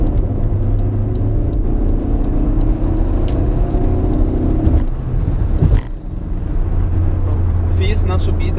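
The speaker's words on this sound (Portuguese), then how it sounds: "Tô atrás desse caminhão, preciso fazer uma ultrapassagem." A VW Voyage 1.6 engine hums and revs under a person talking, with road and wind noise as the car accelerates uphill to overtake a truck, air conditioning on.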